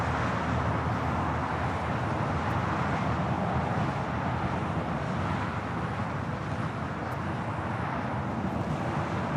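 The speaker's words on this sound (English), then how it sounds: "Next takeoff is JetBlue, Flight 524, heading to JFK. It's an A321neo" A JetBlue Airbus A321neo takes off at LAX, heard as a steady, moderately distant broadband jet roar that holds without a break, with no voices over it.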